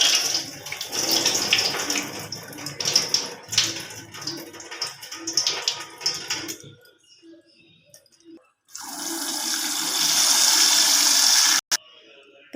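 Soaked rice being washed in water in a kitchen, with a busy stretch of sloshing and splashing, a brief pause, then a steady rush of running water near the end.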